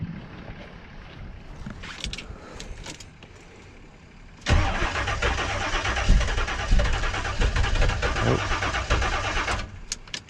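A 1984 Chevrolet Monte Carlo SS engine cranking after a shot of brake cleaner in the intake, a quiet stretch giving way to a loud, sustained churning crank that tries to catch but does not start, close and without talk.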